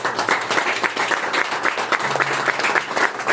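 A church congregation claps steadily in dense, rhythmic applause during a morning service, fairly loud and sustained for a few seconds, with no speech over it.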